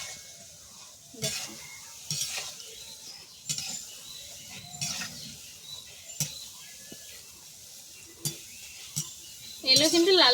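A ladle scrapes and stirs boondi in a pan of hot frying oil in short, separate strokes about a second apart. A soft sizzle continues between the strokes, with a sharper clatter at the end.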